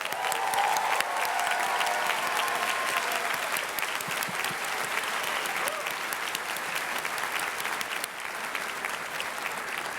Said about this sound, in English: Let us give you a hearty round of applause.